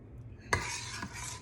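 A spoon scrapes and stirs thick homemade strawberry jam, made without pectin, in a one-pint glass jar, with a sudden burst of stirring about halfway through followed by steady scraping and a second knock, close and moderately loud.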